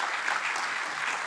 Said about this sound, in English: Can we give a hand of applause for them?